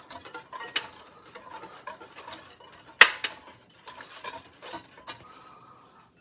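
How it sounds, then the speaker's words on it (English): Dry ingredients for pumpkin waffles are stirred together with salt in a bowl. Soft, uneven scraping and light clinks of a utensil against the bowl are close by, with one sharper clink partway through. "I'll just mix it together a little bit."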